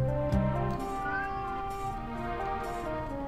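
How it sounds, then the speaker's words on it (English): A cat whines and meows faintly from outside, drawn-out tonal cries sitting low under a steady background of video game music. "The cat is whining because she's outside."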